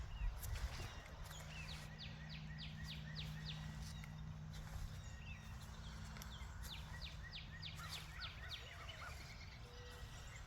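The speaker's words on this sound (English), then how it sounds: "it's lovely hearing all these spring birds, robins and everything having a good time" Spring birds, robins among them, sing outdoors around an old stone church, repeated chirping phrases in bursts through the clip over a steady low hum and light background noise.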